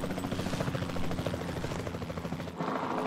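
Rapid rhythmic thudding of helicopter rotors with a whining engine in Jurassic World Evolution 2, loud and close, holding steady before a brief dip near the end.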